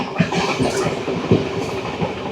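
Train rolling past on a railway line in Jaffna, a loud, close rumble with repeated clattering wheel knocks over steady track noise.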